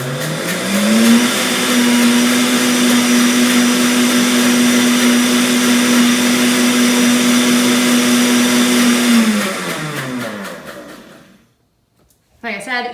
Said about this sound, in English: We're just gonna blend this until it's frothy